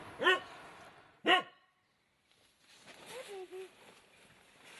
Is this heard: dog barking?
yes